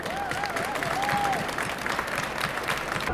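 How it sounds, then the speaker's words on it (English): An audience at a charity contest gives contestants a round of applause, continuous dense clapping with a faint whistle or voice over it. "So big round of applause for them,"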